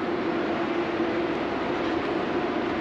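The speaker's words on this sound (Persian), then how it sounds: "الان سوار قطار میشیم" A passenger train on a trip to Chabahar gives off a steady, dense rumble with no breaks, close by and continuous throughout.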